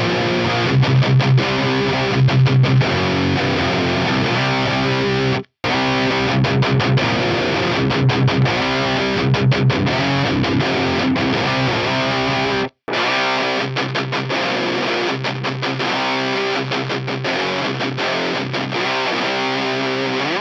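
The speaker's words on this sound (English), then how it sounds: "You're going to hear it off, then you're going to hear the filter before the amp, and then you're going to hear the same filter after the cab." A distorted electric guitar plays a repeated riff three times with brief silent gaps between, first unfiltered, then with an EQ filter before the amp, then with the same filter after the cab, loud and alone.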